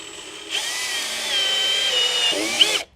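A power drill drives a screw into a deck board, starting with a sharp whir that holds steady for over two seconds, dips slightly in pitch as the screw seats, then stops abruptly.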